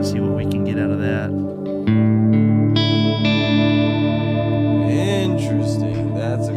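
Electric guitar played through a Strymon Olivera oil can delay with added modulation, sustained chords swelling and wavering with warbling, chorus-like echoes trailing behind each change, loud and continuous.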